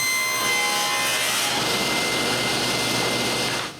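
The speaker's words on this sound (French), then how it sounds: "puis je commence à couper l'entaille du centre" A saw blade cuts a centre notch into a block of wood, a steady, loud, continuous rasping whine that holds for nearly four seconds before trailing off, with no voices.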